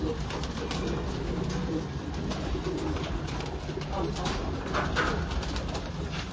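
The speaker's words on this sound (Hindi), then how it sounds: "यार ये सियालकोटी कबूतर है जी जी," Sialkoti pigeons, a large black-faced breed, coo steadily in a loft with a continuous low murmur of birds and some faint background voices.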